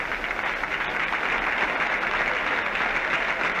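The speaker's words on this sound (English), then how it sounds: "in a moment there'll be a burst of applause because it'll be Bradman" A cricket crowd bursts into steady, even applause as Bradman walks out to bat in an Ashes match, the clapping heard from a distance and sustained without a break.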